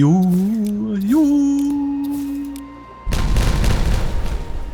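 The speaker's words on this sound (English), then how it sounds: "Oh, we got the dynamite in up here! Detonate you!" Dynamite detonating in a building game after a rising tonal cue, as one loud, sudden boom followed by a rumbling blast that fills the rest of the moment.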